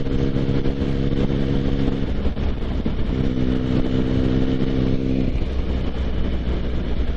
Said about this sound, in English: I can just rest the engine up into top gear as we come up towards the brow.